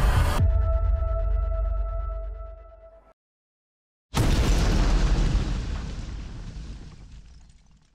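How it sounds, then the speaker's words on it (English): An explosive device detonates at the Georgia Guidestones granite monument, a huge booming blast that rumbles and decays over several seconds, followed after a brief silence by another loud, sustained roaring boom that slowly fades. "Unknown individuals that detonated an explosive device around 4 a.m., which has destroyed a large portion of this structure."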